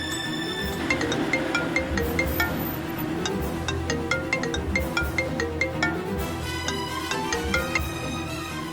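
An outgoing phone call rings in a steady repeating electronic tone pattern beneath a busy musical background. It is moderately loud and has no speech over it.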